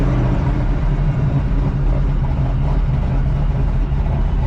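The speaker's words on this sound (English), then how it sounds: "It's got a nice idle." A 1985 Oldsmobile Cutlass engine idles on a brand new carburetor, giving a loud, continuous low rumble that holds steady throughout without any talk.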